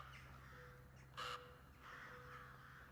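A crow in the video game Alone in the Dark gives one short, harsh caw partway through. It stands out against a quiet background of low ambient hum.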